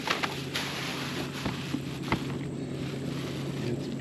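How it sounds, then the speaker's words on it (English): A boat on a lake beside a campsite, a steady broad wash of engine and water noise with a low hum running throughout, a few faint knocks over it and no talking. "Sounds like somebody's about to go by on the boat."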